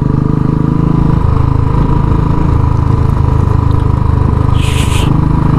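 Royal Enfield Bullet motorcycle engine running steadily on a mountain road between Manali and Kasol, with a loud continuous low thump and a brief crackly burst near the end, likely exhaust popping on deceleration in a small gear.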